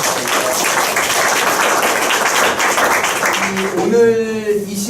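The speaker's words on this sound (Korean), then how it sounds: "박수로 응답해 주시겠습니다." An audience applauds a priest after his lecture on peace studies at an Ignatian spirituality institute's monthly presentation; a dense, steady wash of clapping fills most of the moment before a speaking voice comes in over its tail.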